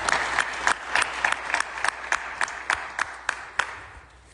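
Sparse applause from an audience at a family's news conference, with separate sharp claps repeating irregularly at a steady pace and thinning out toward the end, moderately close with no talking over it.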